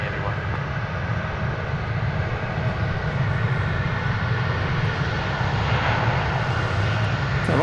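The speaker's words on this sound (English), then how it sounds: "And taking off there was American 2081 to Sacramento." American Airlines jet departing DFW Airport, a steady broadband engine roar that holds loud and continuous throughout, with a faint voice over the noise.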